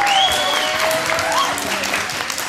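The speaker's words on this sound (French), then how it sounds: "Faites un tonnerre d'applaudissements pour eux" An audience applauds the guests at a Christmas market show in Avanchet-Parc, with steady, dense clapping throughout and a faint whistling tone over it.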